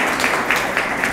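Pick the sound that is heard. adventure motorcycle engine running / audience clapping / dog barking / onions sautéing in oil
audience clapping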